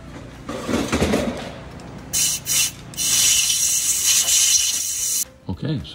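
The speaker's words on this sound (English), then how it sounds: "He's just chasing threads." A cobalt machine-shop thread tap chases damaged bolt threads in an oil filter adapter on a 6.7L Ford Power Stroke, giving a steady, close metallic rasping and scraping that runs for a few seconds with someone talking before it.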